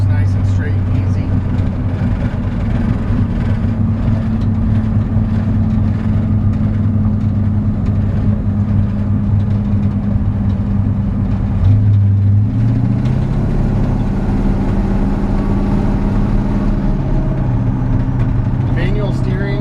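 A 1956 Chevrolet 3200 pickup truck with manual steering drives along, its engine a steady low drone with a slight rise in pitch midway as it accelerates, heard from inside the cab at moderate loudness.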